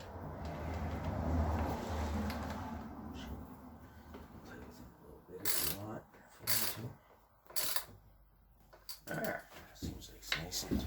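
Sound bar mounting bolts being tightened on a RZR side-by-side, close ratcheting clicks in short bursts with pauses, while someone talks.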